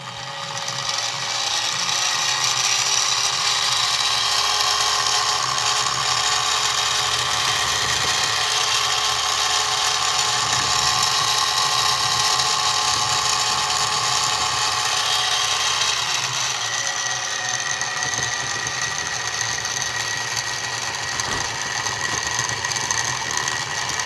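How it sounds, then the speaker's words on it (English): A Harbor Freight 44991 mini mill plunges an end mill down to cut a slot, giving a steady, loud, continuous motor whine and cutting chatter throughout, with a brief shift in tone partway through; no talking. "while I'm on the side, plunge all the way down so I have a hole there that I can start from"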